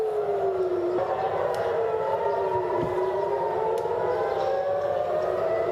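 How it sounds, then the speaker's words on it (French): Civil defense air raid warning sirens wail over Jerusalem and Tel Aviv at dawn during a missile attack, several overlapping rising and falling tones sounding continuously at a distance with no voices. "Jérusalem et Tel Aviv se sont réveillés au son des sirènes d'alerte"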